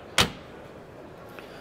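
A drawer on a boat's centre console shuts with one short, solid thud at the start, followed by quiet background hum at a boat show.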